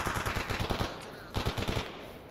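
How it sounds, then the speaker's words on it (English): Gunfire in the video game STALKER Anomaly comes as rapid automatic bursts, two clusters of sharp repeated shots separated by a brief pause, fairly loud and with no talk. "whoever is shooting at Duty would not be my friend"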